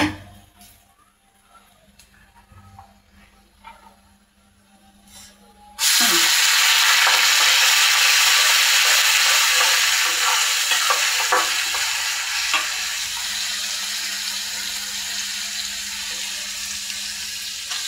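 Lentils (dal) tipped into a hot pan for a dal chorchori set off a sudden loud, steady sizzle after a few quiet seconds of faint stirring, and the frying keeps hissing close up until the end.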